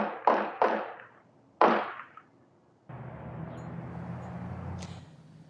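Three sharp gunshots ring out in quick succession on a residential surveillance recording at night in Buckeye, faint and distant, followed by a steady low rumble of background noise.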